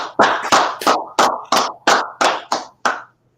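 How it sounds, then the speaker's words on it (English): A group claps in unison, nine sharp, evenly spaced claps about a third of a second apart, loud and close, then stopping. "All right, go ahead and clap it up."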